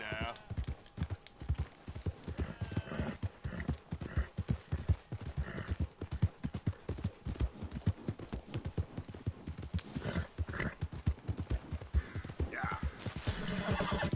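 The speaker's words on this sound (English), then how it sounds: "The horse I got from this mission, like, the starter horse." A horse in the video game Red Dead Redemption 2 whinnies and clops its hooves in a steady walking rhythm, close by, under ongoing talk.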